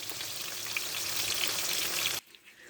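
Sea bream fillets fry in a pan with a steady, even sizzling hiss that cuts off abruptly near the end, leaving a quiet room tone.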